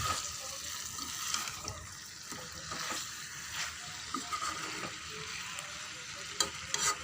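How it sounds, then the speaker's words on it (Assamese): Large pieces of meat fry in a pan over a low flame, sizzling steadily up close, with occasional scraping and stirring sounds over the continuous hiss. "পাঁচ মিনিটমান এনেকৈ কম জুইতে মই ভাজিম।"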